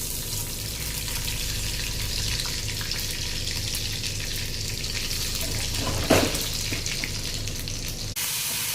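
Cumin seeds fry in hot oil for a Marathi mutka masala, giving a steady, moderate sizzle with a low background hum and a brief clatter near the end.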